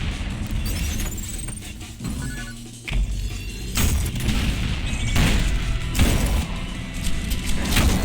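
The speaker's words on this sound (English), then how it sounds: "that would be when you unlock the shotgun, which also doubles as a grenade launcher" In the Ultrakill video game, a shotgun that doubles as a grenade launcher fires amid chaotic combat, with repeated booming blasts, crashes and whooshing effects layered over dense game noise.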